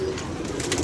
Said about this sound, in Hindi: वो देखो कबूतर वो गया